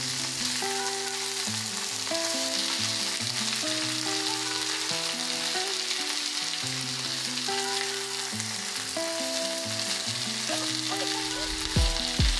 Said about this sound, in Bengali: তেল ভালো মতো গরম হয়ে গেলে এখানে আমরা পেঁয়াজ কুচি দিয়ে দেব।